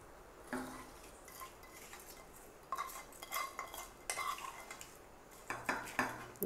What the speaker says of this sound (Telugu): ఇదిగోండి పోపు చల్లారింది ఇప్పుడు ఈ పచ్చళ్ళలో వేసేయడమే